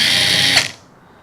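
A high-pitched electric impact gun whirs steadily, then winds down abruptly and fades to quiet after about half a second.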